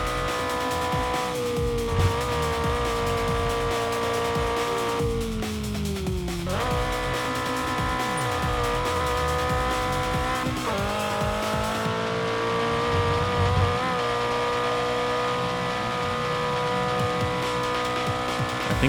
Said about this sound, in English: I think the engine sound is louder than literally anything else right now.